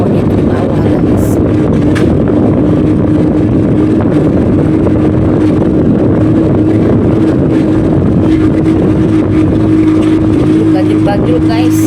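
A motorcycle with a rough, coarse-sounding exhaust pipe mounted low, ridden on an open road in Indonesia, drones steadily and loudly throughout with wind rush over the microphone.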